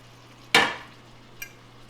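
Banana plant stems hit hot garlic oil in a pan with one sudden loud sizzling burst that fades over a fraction of a second, then a small utensil tap near the end over a faint steady hum.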